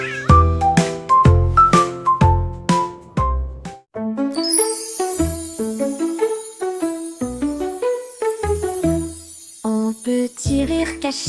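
A cat meows again and again in a playful sequence, clear and close, over bright chiming tinkles and a plucked melody, with no speech.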